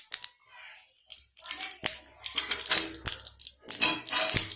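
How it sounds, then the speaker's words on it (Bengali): Cumin seeds drop into hot oil for a small-fish chorchori and crackle, with irregular sharp pops and sputters that grow denser and louder toward the end, close by. "তেলটা আমাদের গরম হয়ে গেছে। এবার এর মধ্যে দিয়ে দেবো প্রথমে কিছু জিরে"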